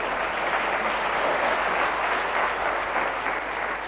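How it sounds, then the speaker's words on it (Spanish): At a tech conference talk in Madrid, the audience gives a steady, continuous round of applause, many hands clapping together at moderate loudness with no speech over it. "Un aplauso para Geray, que le ha pasado."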